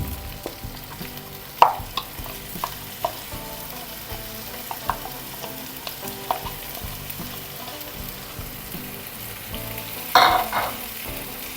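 A ground paste of tomato and onion fries in a pan for an okra masala, giving a close, steady sizzle with frequent clinks and scrapes of a spoon stirring, and a louder burst of hissing near the end.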